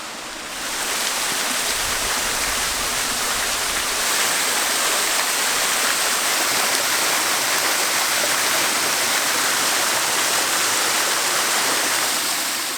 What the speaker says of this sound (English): This is the waterfall that the noise of which dragged us down into this little gully